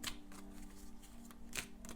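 Tarot cards being shuffled by hand in a loose, messy way, giving soft papery riffles and slaps in uneven bursts, with a couple of sharper card flicks standing out over a low steady background hum.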